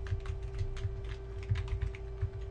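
Computer keyboard keys clatter in a quick irregular run of soft taps, close and continuous, with a faint steady electrical hum underneath.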